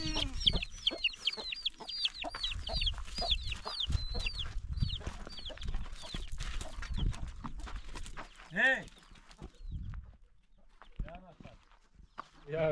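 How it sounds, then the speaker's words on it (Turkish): Close, steady clucking comes from chickens with chicks on a rural farm, with high repeated chick peeps and lower hen calls, and people talk quietly beneath. "Oo, civcivler var."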